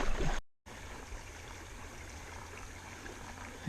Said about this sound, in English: we're going to clean the sluice out.